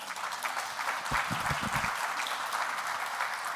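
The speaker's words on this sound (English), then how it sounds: "I'm really glad to hear this applause" A festival audience claps after a talk on compassionate cities, a dense, even patter of many hands that swells briefly in the middle and carries on steadily with no voices over it.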